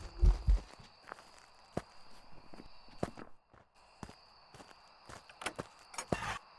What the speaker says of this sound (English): Listen to the footsteps.